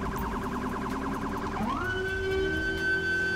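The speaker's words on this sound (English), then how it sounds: "I knew you guys remember this siren" A police car siren from the GTA 5 LSPDFR mod wails in a fast rising-and-falling yelp, then sweeps up and settles into a long steady tone, loud and close.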